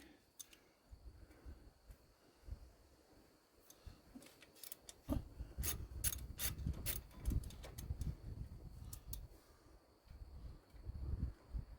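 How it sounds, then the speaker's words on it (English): A wrench loosening brake caliper bolts on a 2006 Ford F150, with irregular metallic clicks, ratcheting and clanks, quiet at first and then busier and louder, close by. "let's get these calipers loose. Use the right size wrench will help."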